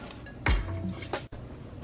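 A utensil stirs a pot of chicken dumpling soup, with a couple of distinct metallic clinks and scrapes against the pot over a quiet kitchen background.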